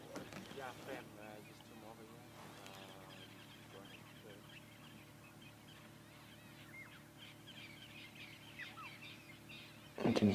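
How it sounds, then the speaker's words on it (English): At sunrise in the Sabi Sand bush, a dawn chorus of francolins, starlings, orioles and red-billed buffalo weavers calls and chirps softly and at a distance, with scattered overlapping calls, one louder burst at the start and someone talking over them. "can hear the dawn chorus of birds has suddenly decided to wake up. The francolins are giving it a proper go. You can hear starlings, orioles, red-billed buffalo weavers."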